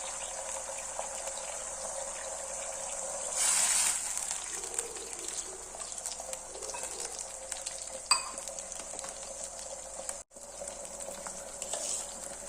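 Hot water poured into a hot cooking pot for ragi semiya upma, with a short surge of hissing sizzle over a steady background hiss and a faint clink.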